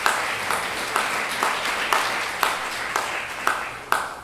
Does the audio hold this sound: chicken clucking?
no